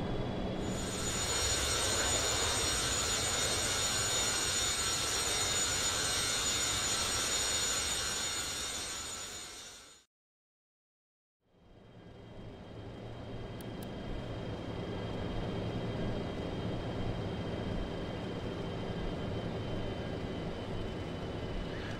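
Boeing 737-200 jet engines in the X-Plane 10 flight simulator during climb, a steady, loud broadband roar with tonal whine that cuts out briefly midway, then returns at a somewhat lower level.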